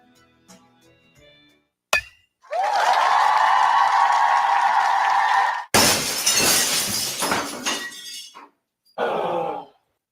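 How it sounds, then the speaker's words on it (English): Glass shatters loudly in a radio ad for car windshield and window repair: a sharp crack, then a sustained bright crash of breaking glass, a second heavy smash with tinkling shards, and a final short burst of falling fragments. "the agony of a broken windshield or car window"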